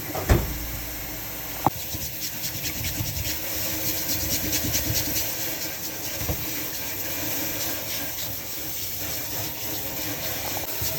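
Cascadu fish, also called hassa, is scrubbed with salt under running water. A steady rasping rub sounds close over the constant wash of the tap, with a couple of sharp knocks.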